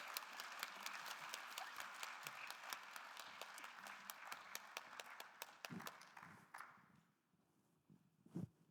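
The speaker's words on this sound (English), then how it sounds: "let's please give one more big round of applause for all of our poets and the amazing readings" Audience applause after a poetry reading, a dense crowd clapping steadily for several seconds before tapering off, then a couple of isolated louder claps at the end.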